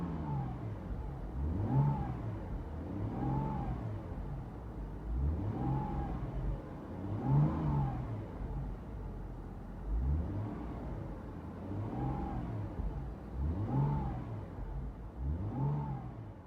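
A 2016 Subaru Outback 3.6R engine with a Flo Pro Max split dual exhaust drones steadily, rising and falling in repeated revs with a deep exhaust rumble, heard from inside the cabin.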